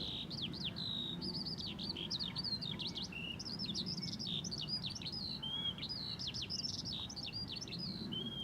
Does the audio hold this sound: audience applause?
no